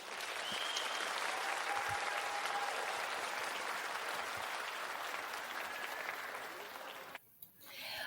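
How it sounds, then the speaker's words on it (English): A live audience gives a full, sustained round of applause, dense and steady for several seconds before it tapers off and stops abruptly. "So I'm going to give her one more round of applause."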